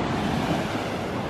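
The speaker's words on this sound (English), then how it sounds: "Waves are not too high." Ocean waves wash steadily onto a beach in Pattaya, a continuous broad surf roar with some wind noise, close and fairly loud, with no talking.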